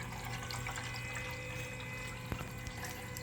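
Coolant in a diesel water heater circulates through its reservoir, a steady soft gurgling and pouring wash with a faint click partway, close and continuous.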